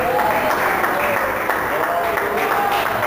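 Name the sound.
congregation applause in church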